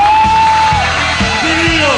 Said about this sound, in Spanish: Quiero pedir un aplauso muy especial para las dueñas de la cultura